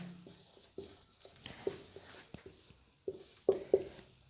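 Pen writing notes on a board or paper during a genetics lecture, faint scratching strokes with sharper taps, close and quiet, without talk.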